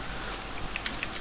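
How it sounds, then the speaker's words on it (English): Rapid, light clicking of keys being typed on a computer keyboard, a brief run of close taps. "typing in Google like this"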